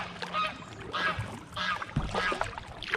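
Geese honk by the River Ouse in York, a few moderately distant calls repeating roughly every half second over faint outdoor water and ambient noise.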